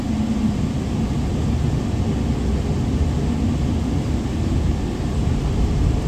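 A jet airliner accelerating for takeoff on the runway at Perth, Australia, with a steady, loud broadband engine roar and rumble that holds constant throughout, with no talk.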